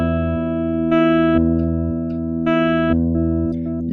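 A looper in stutter mode holds a sustained, buzzy low note while a higher played note drops in twice over it, each insertion lasting about half a second before cutting back to the loop alone.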